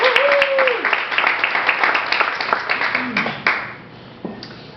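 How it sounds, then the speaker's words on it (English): Applause from the audience at an awards luncheon breaks out in a scattered burst of clapping that thins and fades over a few seconds while a voice briefly carries over the room. "Give yourself a round of applause."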